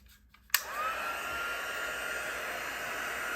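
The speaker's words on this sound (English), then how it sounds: "my heat tool will take just a second to heat up." A handheld heat tool switches on with a click and blows hot air in a steady, close whooshing hiss that holds even and continuous to the end.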